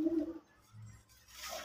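A pigeon coos in soft, low, throaty notes, with a brief higher chirp near the end, fairly faint and close by, with no talking.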